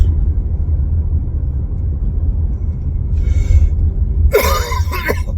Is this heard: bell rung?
no